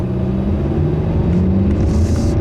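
A 2015 Hyundai Sonata cruises along a curvy back road, its engine a steady loud low rumble with road noise from inside the cabin and no voices.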